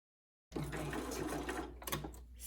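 Home sewing machine stitching a sleeve with gathers at a setting of 3.5 for a Simplicity pattern 8982 garment, a steady whirring run that starts abruptly after a brief silence and continues alone.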